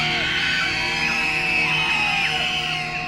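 Many people scream and yell at once in a dense, continuous crowd din, loud and sustained throughout with overlapping wails and shrieks.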